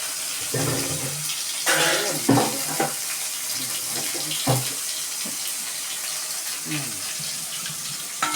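Raw chicken is rinsed by hand in turmeric water under a running tap, with splashing, sloshing and dripping over steady flowing water, while a voice talks over it.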